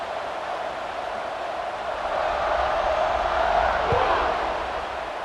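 A stadium crowd roars in the EA Sports College Football 26 video game. A broad, distant wall of cheering swells midway and then eases back, with a single thud near the end.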